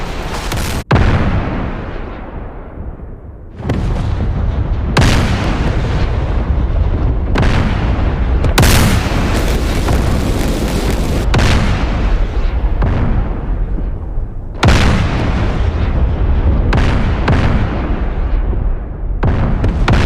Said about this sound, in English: Artillery's hitting.